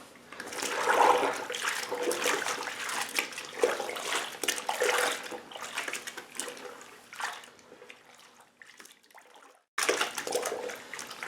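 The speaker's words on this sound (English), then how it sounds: "So I'm just going to squirt this all like that." Varmint 48 de-greaser liquid is squirted generously onto an animal hide in a steady, close, wet spray that runs for several seconds, pauses in near silence, then starts again.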